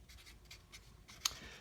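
Pen writing a name on paper, a few quiet, soft scratchy strokes in short bursts with one sharper tick near the end, heard close up in a hushed room.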